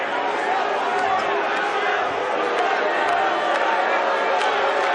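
A displeased home crowd at a college basketball game in Pitt's Oakland Zoo student section gives a steady, loud wash of boos and murmuring chatter, dense and continuous without a break.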